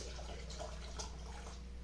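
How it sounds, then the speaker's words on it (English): Tomato juice poured into canning jars to half an inch of headspace, a faint, steady liquid splash and trickle over a low background hum. "I'm going to go ahead and just fill our jars to 1/2 inch of headspace"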